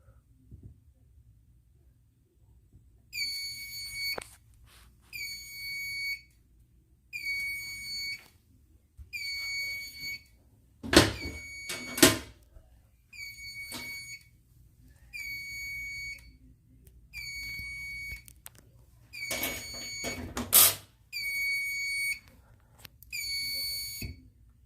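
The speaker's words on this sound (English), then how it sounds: "silence the alarm, and now we can hit reset" A fire alarm panel sounds repeated electronic alarm pulses in a steady on-off rhythm during a drill, with a few louder clunks and some handling noise between tones and no talking.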